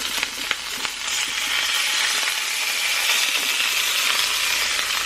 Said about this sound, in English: first you're going to add your tomatoes